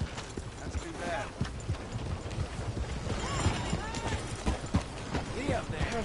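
Horse hooves clip-clop in the Red Dead Redemption 2 video game, a close, steady trotting rhythm of hoofbeats over ambient outdoor sound, with a voice occasionally heard alongside.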